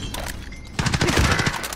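A quick volley of gunfire erupts in a search-and-destroy shooter match, a rapid loud string of close shots after a brief lull, with no voices over it.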